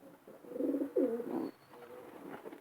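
A female long-distance racing pigeon gives a couple of close, throaty coos in quick succession, then a softer, fading murmur, against a quiet background.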